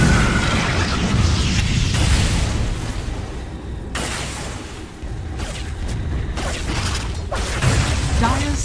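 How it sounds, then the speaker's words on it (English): Towers crumbling in Dota 2 during an Ability Draft match, heard as dense rumbling destruction with booms and grinding mechanical crunches over a constant busy game mix, loud and continuous. "Dire's structures are falling."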